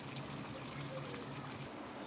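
A small cup of water pours into egg gravy for anda do pyaza, making a steady, soft, close trickling splash that lasts about two seconds.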